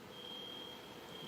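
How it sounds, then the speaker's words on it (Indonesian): An electronic alarm sounds inside a church during a sermon, a thin, steady high-pitched tone that stays faint and continuous over soft room noise. "Ini bunyi alarm atau apa ya?"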